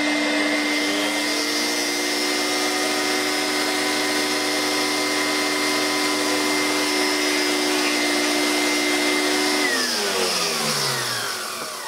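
A Vorwerk vacuum cleaner fitted with an ET340 powerhead in place of an ET31, running with a loud steady whine for about ten seconds before winding down as the motor stops.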